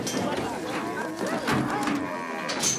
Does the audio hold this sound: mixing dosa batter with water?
no